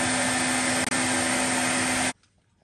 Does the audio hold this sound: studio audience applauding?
no